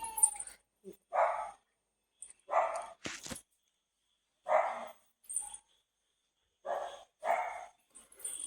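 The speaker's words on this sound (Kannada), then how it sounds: "ನಾಯಿ ಪಾಪ ಅದಕ್ಕೆ ಬೇರೆ ನಾಯಿಗಳು ಬಂದರೆ ಸಿಟ್ಟು ಬರುತ್ತೆ ಅದಕ್ಕೆ ಕೂಗ್ತಿದ್ದಾನೆ ಅನಿಸುತ್ತೆ" A dog barks angrily at other dogs in a series of sharp, spaced barks and yelps, fairly close, with quiet gaps between bursts.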